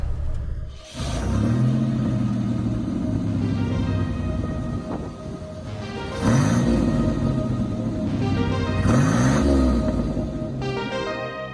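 A 1987 Buick GNX engine rumbles while driving, holding a steady loud drone with two surges of revving acceleration, heard close and without talk.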